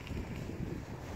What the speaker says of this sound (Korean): 영하 한 15도 이상 되고, 또 바람이 불어가지고